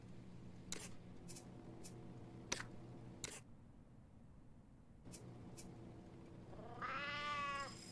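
Game cat in Sheltered gives a brief meow near the end, a rising wavering cry over steady background game music and clicks.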